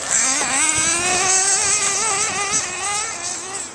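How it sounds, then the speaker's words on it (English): A Losi 810 nitro RC car engine runs loud and close, a high, buzzy whine that wavers up and down in pitch as the throttle is blipped, with no talking. "we've got to run some Nitro RC cars"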